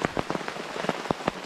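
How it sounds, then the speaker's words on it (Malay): Rain falls at night in a jungle at about a quarter past three in the morning, a steady close patter of drops striking surfaces with irregular sharper hits, heard alone without voices. "Dan sekarang ni hujan"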